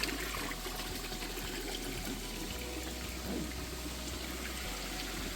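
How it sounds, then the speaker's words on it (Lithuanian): Water flows steadily from a spring on Madeira, a soft continuous trickle and rush with no voices. "Čia vandens šaltinis."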